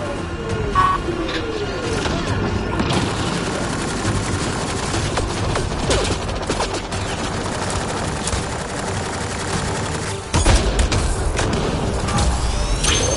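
Sustained enemy gunfire in the sci-fi shooter Mass Effect: Andromeda, dense rapid shots and booming blasts filling the whole stretch, loud and continuous with a heavier burst near the end.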